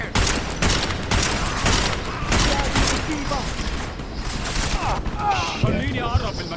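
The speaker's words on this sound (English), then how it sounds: "Lay down some cover fire!" Rapid bursts of gunfire in a firefight in Deus Ex: Mankind Divided, dense and continuous with sharp cracks and clattering, loud and close, with a voice speaking over it.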